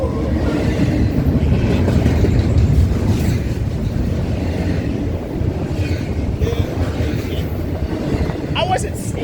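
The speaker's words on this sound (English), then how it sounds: "Finally a Hobart bound train here." A Hobart-bound freight train rolls past at close range near Colton, a loud, continuous rumble with rattling cars and rhythmic wheel clatter, with a brief dip midway and no voices over it.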